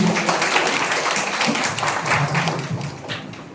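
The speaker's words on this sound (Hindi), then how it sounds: "जोरदार तालियां होगी।" An audience at an agricultural and cooperative workshop seminar in Godda district claps in a dense, steady wash of applause that stays loud throughout.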